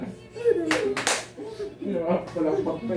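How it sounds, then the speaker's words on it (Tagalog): Children clap their hands in a few quick sharp bursts at close range, mixed with kids' chatter and voices. "Palakpak pa eh."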